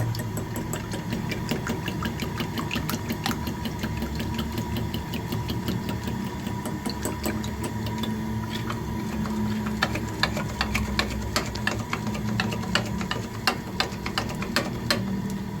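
An electric hand mixer beats eggs for a chocolate cake batter, a steady mechanical whir with rapid rattling clicks of the beaters against the bowl, continuous and close, with no talking.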